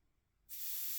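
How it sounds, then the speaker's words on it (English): An airbrush bursts into a steady, loud hiss of compressed air atomizing paint for miniature painting, starting abruptly halfway through after near silence and continuing evenly to the end. "it then shoots out through the front and atomizes your paint to get really nice"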